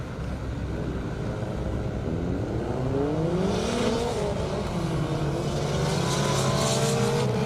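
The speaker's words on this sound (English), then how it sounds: "It looked like a drag race until it didn't." Race cars at an Indy half-mile airstrip drag event, engines howling in a long rising and falling roar, a second engine layering in and rising in pitch, heard from a moderate distance.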